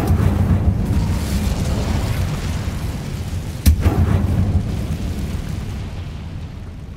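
An Incendio fire spell cast in Hogwarts Legacy, a deep rumbling burst with a sharp crack partway through, followed by a roaring low-frequency whoosh that slowly fades.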